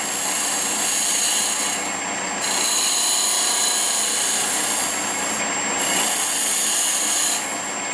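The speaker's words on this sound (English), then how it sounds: "I'm just going to make a light cut through here." A Badger swan neck hollowing tool takes a light cut inside spinning wood on a lathe, giving a steady hissing scrape in three long passes separated by short breaks, close and fairly loud.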